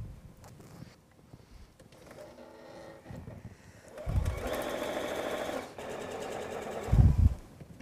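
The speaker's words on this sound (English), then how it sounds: "So once you sew this side and that side together, it will allow for that seam allowance." A sewing machine stitches pieces of fabric together in loud, steady whirring runs that stop and restart, with short bursts of low thumping between them and no talking.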